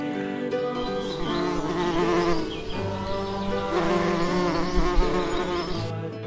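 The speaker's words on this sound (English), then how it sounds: "Bee, big bee," A big honey bee buzzes steadily and continuously, a close, droning hum with a slight wavering pitch, heard alone without talk.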